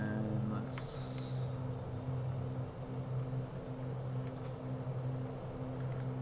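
A Bonanza G36 propeller engine in Microsoft Flight Simulator drones at a steady low pitch, loud and close, with a brief higher whine early on.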